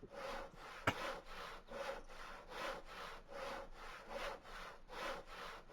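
Rhythmic back-and-forth strokes of a quality hacksaw cutting through metal scrap in the game Voices of the Void, about ten even rasping passes with a sharp click near the start, close and alone without speech.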